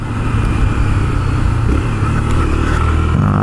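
A motorcycle engine running loud and close with a steady, rough mid-range drone that holds at a constant pitch throughout, with no pauses.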